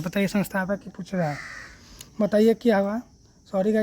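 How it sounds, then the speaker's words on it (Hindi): A crow caws in the background, a broad harsh call rising between stretches of continuous Hindi speech, which carries on over and around it. "थोड़ा कौवा बोल रहा है यहाँ पे"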